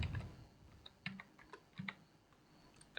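Keys clatter on a computer keyboard while Python code for a dictionary is typed, a few close, light clicks and short bursts spaced across a quiet room with no speech.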